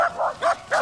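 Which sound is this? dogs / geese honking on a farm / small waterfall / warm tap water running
dogs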